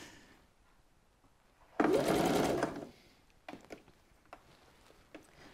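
A sewing machine stitches a seam in one loud, steady whirring burst of about a second, followed by scattered soft clicks and handling sounds.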